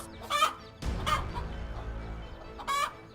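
A hen clucks and squawks in sharp, agitated bursts while fending off a cobra near her chicks, three loud cries spaced across a few seconds, with low scuffling between them.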